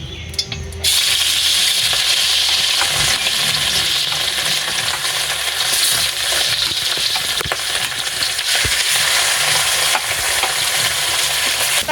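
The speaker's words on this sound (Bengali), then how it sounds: "কড়াইটা গরম হয়ে গেছে এবার আমি তেল দিয়ে মাছটা ভেজে নেবো" Fish drops into hot oil in a heated wok and fries with a loud, steady hissing sizzle that starts abruptly and continues with occasional crackles and utensil taps.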